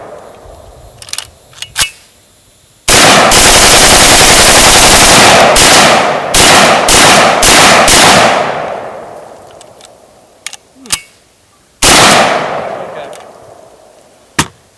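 An AKS-74u rifle is bump-fired from the shoulder outdoors. Long, very loud bursts of rapid automatic-style gunfire are heard up close, and between the bursts there are a few single sharp shots and some clanks.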